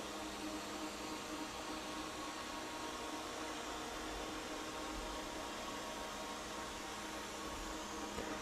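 A eufy S1 Pro robot vacuum with its mop roller hums in a soft, steady, even drone, faint and unbroken from start to finish.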